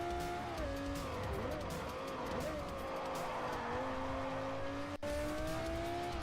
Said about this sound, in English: It's probably one of my favorite exhaust notes of any car.